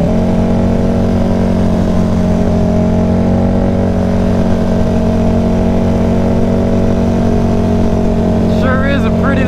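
A motorcycle ridden hard by Kelvin, its engine droning loud and steady with sustained revving, close by throughout.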